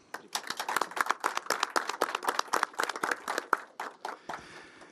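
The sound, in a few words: applause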